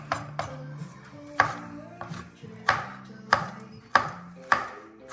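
Knife chopping pickle finely on a board: crisp, sharp taps with a steady, unhurried rhythm, about a dozen strikes over a few seconds, close up and without any talk.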